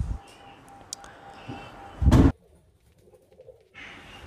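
Pigeons coo softly in breeding coops, with low murmuring calls near and far, a short loud rustle or thump midway, then quieter coop noise and light flutters.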